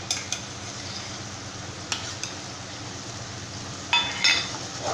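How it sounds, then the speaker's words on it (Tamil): Fried onion paste and tomato for egg gravy are stirred in a pan, with a low sizzle under occasional metal spoon taps and scrapes against the vessel. "இப்போ இது எல்லாமே சேர்த்துட்டு நல்லா இந்த மாதிரி மிக்ஸ் பண்ணிடலாம்"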